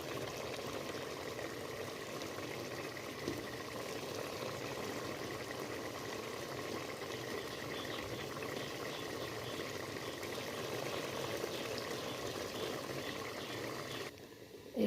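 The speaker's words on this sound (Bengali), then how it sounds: "এখানে ডাল রান্না হচ্ছে, দেখছেন কীভাবে মাশাআল্লাহ বলক দিতেছে" A pot of lentils (dal) at a steady rolling boil, giving a continuous, even bubbling and hissing wash throughout that cuts off sharply near the very end.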